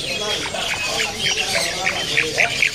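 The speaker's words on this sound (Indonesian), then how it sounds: "Di kios ini ada burung puyuh gonggong ya." Barking quail calling at a bird-market stall, a run of short sharp squawking notes that grow louder and quicker toward the end over low background chatter.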